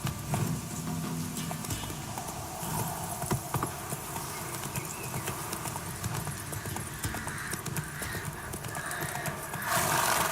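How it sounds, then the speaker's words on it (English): Horse hooves clip-clop steadily with occasional neighing and whinnying, set in The Witcher 3 video game, heard amid continuous game ambience throughout. "Whoa there, Roach"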